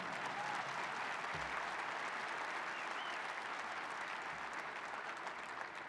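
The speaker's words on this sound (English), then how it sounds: "Let's give Chris and the entire team a great round of applause." An audience at an NRA leadership forum gives a sustained round of applause, a dense continuous clatter of many hands heard at moderate distance without talk.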